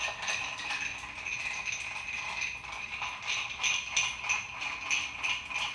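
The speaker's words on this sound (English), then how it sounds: "We're going to give this a nice stir." Ice stirred in a mixing glass for a brandy old fashioned, a steady close rattle and clink of cubes against glass continuing throughout with slight rhythmic swells.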